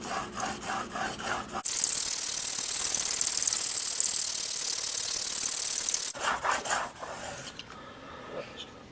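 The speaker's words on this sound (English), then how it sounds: "I've been sharpening on 1200 grit." A Grim Reaper Hades Pro knife blade is drawn across a 1200 grit sharpening plate. Quick rhythmic rasping strokes give way to a long, continuous, close scrape, then more short back-and-forth strokes.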